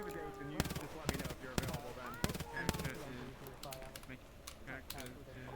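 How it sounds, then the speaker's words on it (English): Bursts of gunfire crackle through a roleplay video game scene, several sharp clustered shots in the first three seconds and scattered lighter pops after, mixed over a busy game soundscape with talk underneath. "There's gunshots and crap happening."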